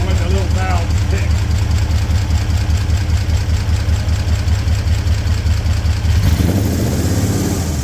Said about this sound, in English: I just love the way the little valves tick.